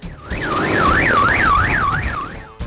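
A loud car alarm, set off by passing loud motorcycle engines on a highway, wails in a fast rising-and-falling tone, repeating steadily and dominating the scene.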